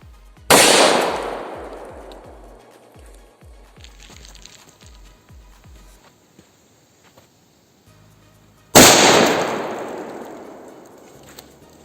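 A DM-51 airsoft grenade goes off twice, each time a sudden loud close blast that decays over a couple of seconds. Rattling and clattering sounds follow the first blast, with a quiet gap before the second.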